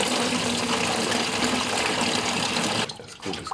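Coolant gushes steadily from a detached water pump hose on a VW Passat 35i, a loud continuous pouring that breaks off abruptly near the end.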